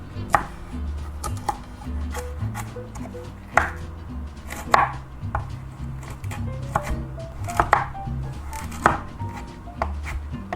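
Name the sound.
chopping parsnips with a knife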